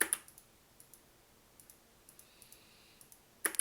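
A computer mouse clicks during 3D modeling in Rhino, with sparse, quiet, close single clicks spaced irregularly and a louder cluster of clicks at the end, all without talk.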